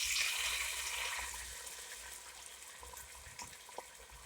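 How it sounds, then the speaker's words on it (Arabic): Hot water poured into a cooking pot over sautéed gizzards while making rice, a loud gushing splash at first that settles into a steadier, quieter pour and trickle. "عندنا ميه سخنه."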